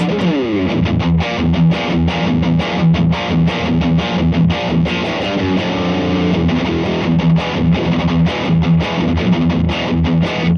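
An electric guitar played through an MXR Dookie Drive pedal set to its Meat side gives loud, thick, heavily overdriven chords, strummed continuously with no talk.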